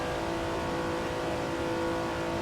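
Racing car engines rev steadily and loudly in a simulated 1967 Daytona 24-hour endurance race with Ferraris, a dense continuous mid-pitched roar that holds up with no pauses.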